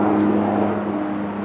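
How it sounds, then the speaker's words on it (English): A helicopter flies low overhead, its steady droning rotor and engine noise loud and close, holding throughout with no talk. "That has to be one of the strangest helicopters I think I've ever seen in my entire life."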